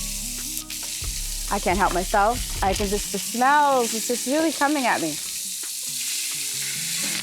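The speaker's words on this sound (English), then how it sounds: "That sear, that simmer." Beef and barley stew ingredients sear in a pot with a constant crackling sizzle that continues under someone talking close by and after he stops.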